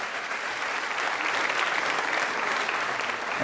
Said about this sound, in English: So you can applaud because you will be watching.